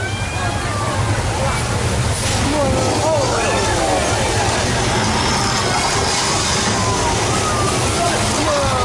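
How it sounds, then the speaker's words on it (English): Thousands of gallons of recycled water cascade down a hill as a flood effect on the Universal Studios Hollywood backlot tour. A loud, steady rushing and sloshing surge fills the whole clip, with people's voices mixed in. "That right there was thousands of gallons of recycled water dropped from the top of the hill, brought back up in simply just 1 minute."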